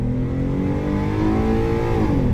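A Ford F-150 XL pickup with a 3.7-liter V6 revving hard as it accelerates, a loud, steady engine roar heard from inside the cab with its pitch climbing, then dropping near the end.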